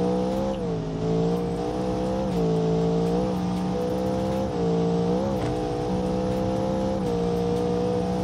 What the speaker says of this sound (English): Here we go, nitrous.